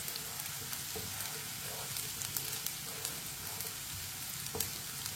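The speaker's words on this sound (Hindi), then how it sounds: "प्याज को मैंने हल्का सा ब्राउन कर लिया" Onion browning in a pan for lauki ki sabzi sizzles and fries steadily, close and loud, with faint crackles throughout and no talk.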